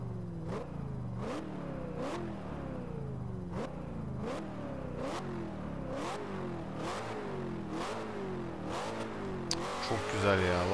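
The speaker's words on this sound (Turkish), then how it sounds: "Bayağı ara motor ses dinlettim size." Car engine in the racing game Forza Horizon 2 revving repeatedly, each rising whine cut by sharp gear shifts in a steady rhythm, loud and continuous, ending in a harsher burst.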